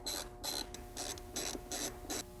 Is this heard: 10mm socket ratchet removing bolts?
yes